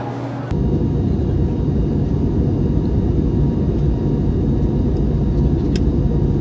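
Loud, constant low roar of a passenger airplane's engines and cabin during flight, broadband and unbroken, with a brief quieter moment at the very start.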